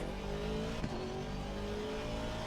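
A race car engine in a racing video game holds a steady, loud drone at full throttle around Imola, with no talk over it.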